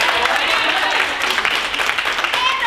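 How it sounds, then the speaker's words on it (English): Loud crowd applause at an improv comedy show with performers in costumes, a dense wash of clapping and cheering filling the short stretch. "Give a round of applause for coming in costumes."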